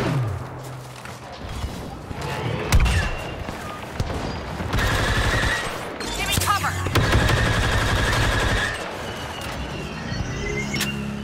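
Heavy gunfire in a Star Wars Battlefront II Galactic Assault match: rapid automatic blaster bursts, sharp single cracks and explosive thumps overlapping in a loud, chaotic battle, with a voice calling out briefly among the shots.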